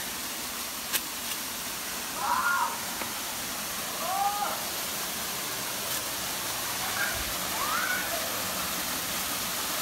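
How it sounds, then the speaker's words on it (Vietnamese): A steady broadband rush of a waterfall reached after a 2 km trek on an island near Nha Trang, filling the scene continuously, with faint voices now and then over the roar. "Cuối cùng chúng ta tới được thác sau 2 km."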